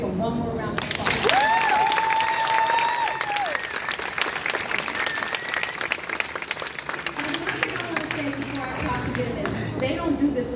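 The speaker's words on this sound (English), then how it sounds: "Can you give them one more round of applause?" A full round of applause for nursing program graduates at a ceremony, dense crowd clapping with cheers and a voice rising over it throughout.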